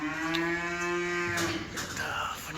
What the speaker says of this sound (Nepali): यहाँ सब जातको गाई छ।